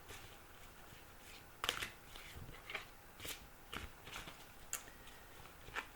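Playing cards shuffled for a three-card tarot-style reading, a series of short crisp riffles and taps spaced through a quiet room, fairly close and soft.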